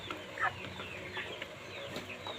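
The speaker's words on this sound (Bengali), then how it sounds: "আমার ব্রয়লার মুরগিগুলো।" Broiler chickens cluck in short, scattered calls close by on a farm, with a low barn-like hum underneath.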